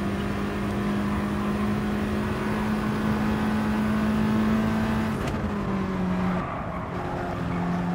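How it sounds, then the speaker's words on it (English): A front-engine, front-drive race car in the GT Sport video game holds a steady engine drone under light throttle while braking, then the engine note drops and shifts near the end as it slows, loud and continuous without talk. "Keeping a little bit of throttle input there too, as well as the brakes, just extra braking force and stability."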